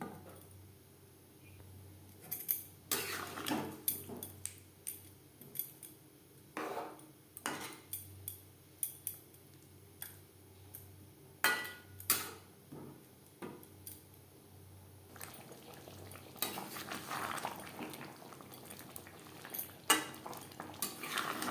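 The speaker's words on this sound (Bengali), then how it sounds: "মশলার সাথে আলু বেশ ভালো করে মিক্সড করে দেব" Potatoes, boiled then fried, being stirred into a spice masala in a pan, with scattered clinks and scrapes of a utensil against metal and soft frying beneath, no talk.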